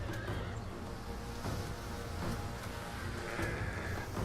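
Horses neighing and whinnying amid a battle in the video game Total War: Attila, with hoofbeats and clashing noise underneath; several whinnies at moderate loudness, no talk.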